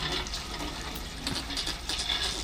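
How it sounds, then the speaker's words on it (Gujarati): Water splashes and pours steadily onto trees outdoors, a continuous hissing wash of liquid with slight surges, fairly close. "પાણી પાઉં ઝાડવાને"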